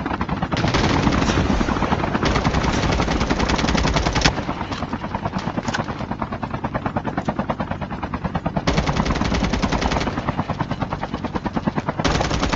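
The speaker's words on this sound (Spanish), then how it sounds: "Disparen, que ese helicóptero está cayendo," In a battle royale video game, a helicopter's rotor thumps steadily and loudly while bursts of rapid machine gun fire rattle over it in repeated volleys, with no talk.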